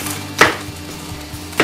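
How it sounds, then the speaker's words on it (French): A knife chops through small apples on a cutting board in two sharp, close thuds about a second apart, with quiet background in between. "Même les pommes, même les toutes petites pommes que j'ai, il faut les couper."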